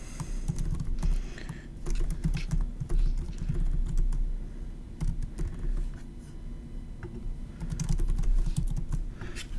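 Fingers type on a computer keyboard in bursts of close, quick key clicks with short pauses, no talking.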